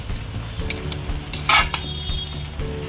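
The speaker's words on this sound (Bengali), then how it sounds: "আমি আবার 10 মিনিটের জন্য একে ঢেকে দিলাম।" A lid goes onto a pot of village-style chicken curry with a brief metallic clink and clatter, heard close up over faint kitchen rustling and no speech.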